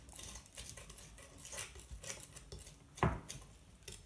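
A knife blade grinds and scrapes garlic against a cutting board into a paste with a flattening motion, in soft repeated rasping strokes and one firmer knock near the end.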